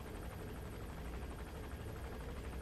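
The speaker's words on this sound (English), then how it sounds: "I can hear it, but I can't see it." Steady rotor drone of a helicopter in the video game Metal Gear Solid V, a dense low thrum and broadband whir, continuous and fairly distant, no talking.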